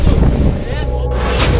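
Strong storm wind during a hailstorm near Guwahati roars loudly and continuously against the microphone, a dense buffeting rush that shifts in tone about two-thirds of the way through.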